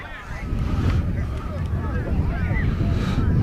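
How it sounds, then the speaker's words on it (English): Strong wind buffets the microphone at an outdoor youth 8U spring flag football game, Packers versus 49ers, as a constant low roar with faint distant voices underneath. "The wind is picking up."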